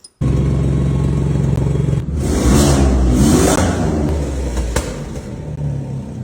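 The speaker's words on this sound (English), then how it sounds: "I blew out a turbo adapter and it sounds like a 16-year-old kid with a V6" A UTV with a blown turbo adapter idles with a loud, raw, straight-piped rumble, then revs up and falls back, close and harsh with rattly clatter, no talking.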